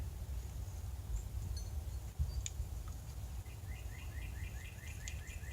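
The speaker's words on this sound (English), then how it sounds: "I hear one bird." Faint, distant bird chirps over a low rumbling outdoor background, ending in a quick run of repeated high notes from one bird.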